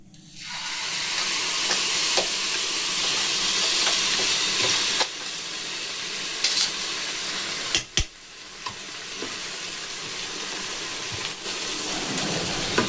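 A sweet milk mixture for monda sweets sizzles steadily in a hot pan on the stove, with spoon stirring scrapes and occasional sharper clatters, close and continuous with no talking.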